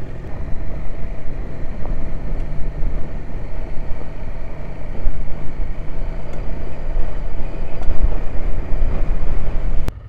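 A rented BMW 1200GS motorcycle on street tires rides off-road along the Oregon backcountry, its engine droning steadily and loudly under heavy wind rush, with no talk.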